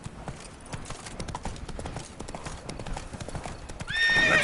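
Horse galloping in The Witcher 3: Blood and Wine, rapid rhythmic hoofbeats close by throughout, ending with a loud whinny.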